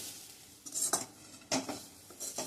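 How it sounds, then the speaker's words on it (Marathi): Elephant foot yam with grated coconut sautéing in a pan, heard as a few quick metallic scrapes and clinks of a spoon stirring against the pan over a faint background hiss. "जेवढा सुरण असेल तेवढाच नारळाचा चव घालायचा आणि पुन्हा छान परतून घ्यायचं"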